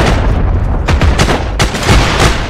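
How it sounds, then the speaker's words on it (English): Loud, close gunfire in the shooter game Heroes & Generals, several heavy booming shots over a dense rumbling battlefield din with no clear pauses. "I just shot a guy in the face."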